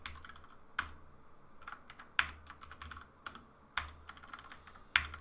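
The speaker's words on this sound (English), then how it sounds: "typing" Typing on a computer keyboard during coding work, with irregular bursts of keystrokes and a few sharper, louder key hits, recorded close with a low background hum.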